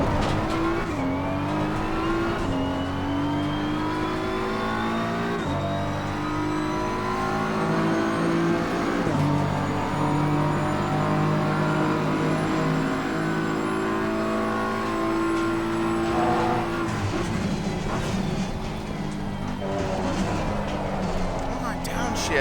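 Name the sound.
BMW M4 GT3 race car engine downshifting, Assetto Corsa Competizione video game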